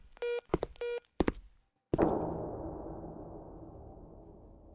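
In a horror video game, a call reaches voicemail with a quick run of telephone beeps and clicks, then a sharp thunk followed by a long fading hiss, with no talking.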